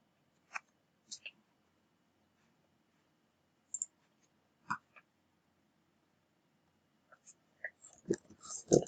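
Keys click on a computer keyboard in a quiet room, in scattered single and paired taps with long pauses, then a quicker burst of keystrokes at the end.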